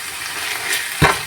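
Garlic paste fries for a prawn bhuna in a short burst of soft crackling hiss, ending with a brief thump of a spoon in the pan.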